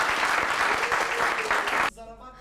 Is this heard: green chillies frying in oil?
no